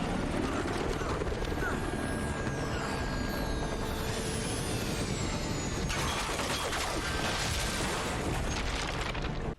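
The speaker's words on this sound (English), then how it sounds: "forcing Navarro to crash land the helicopter onto a ship." In Uncharted: Drake's Fortune a helicopter crash-lands onto a ship: loud continuous rotor roar and engine whine with metallic groans and a heavy impact surge partway through, all dense and close, with no talking.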